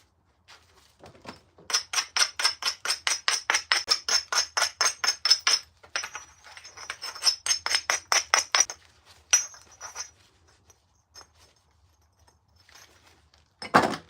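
Stone knapping: a hammerstone strikes flakes off a stone core in a fast, steady run of sharp, close clicking taps, then a pause, a second run, and a few scattered strikes, with no talking.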